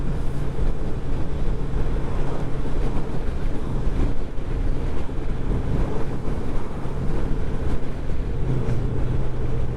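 A Kawasaki GPZ750 motorcycle runs flat out at full throttle on a road racing circuit, its engine a steady droning tone buried under heavy wind roar throughout.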